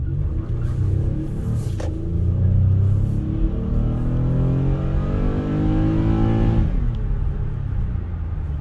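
A 2021 Toyota Sienna Hybrid minivan engine accelerating from inside the cabin, a steady mid-loud rumble with harmonics climbing in pitch over several seconds, then dropping off near the end.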